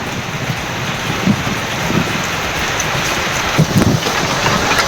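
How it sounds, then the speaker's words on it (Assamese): Heavy rain pours steadily throughout a storm in Golaghat, a dense continuous hiss with a few low rumbling swells that may be distant thunder, no voices. "গোলাঘাটৰ তীব্ৰ ৰূপত বৰষুণ দিয়াৰ দৃশ্য দেখা পোৱা গৈছে"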